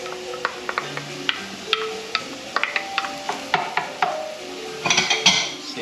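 Garlic and pimiento sautéing in a pan with rice nearby, stirred by a utensil that clicks and scrapes against the metal in scattered bursts, over a faint background sizzle.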